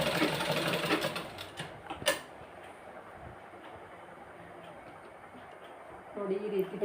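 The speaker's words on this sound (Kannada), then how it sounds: "ಹೀಗೆ ನೋಡಿ 2 ಸ್ಟಿಚ್ ಹಾಕ್ತಿದ್ದೇನೆ" A tailoring sewing machine runs a quick double stitch on cloth, a short loud rhythmic rattling burst followed by quieter handling and a faint mechanical tick, with no talk.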